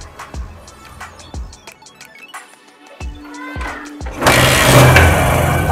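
A motorcycle engine runs while its air-fuel mixture screw is adjusted for a mileage problem; a few sharp knocks and short bursts give way to a loud, steady running roar for the last seconds.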